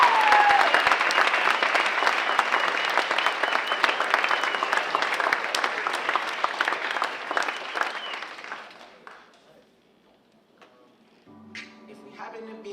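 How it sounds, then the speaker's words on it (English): An audience at a live Thursday poetry show in a college venue applauds loudly and steadily for about eight seconds, then the clapping fades out, leaving near silence before faint music-like sounds begin. "Y'all gotta clap again,"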